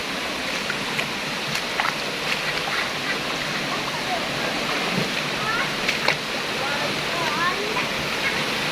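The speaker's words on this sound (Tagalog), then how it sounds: "So, ganda ng falls. Yan yung falls nila." Steady broadband rush of a scenic waterfall near a cave, a continuous roar of falling water throughout with a few faint splashes and voices under it.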